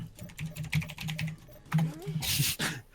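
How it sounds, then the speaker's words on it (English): Rapid clicks from a computer keyboard come in quick bursts, clattering close by under a person's talking voice, with a louder flurry of keystrokes near the end. "I like the typing response"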